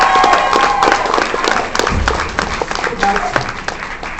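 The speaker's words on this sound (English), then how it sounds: "Ladies and gentlemen, a round of applause for Mr." A convention audience applauds guest Jeffrey Cole at an expo opening ceremony, a loud, steady wash of clapping from a big crowd that holds for several seconds.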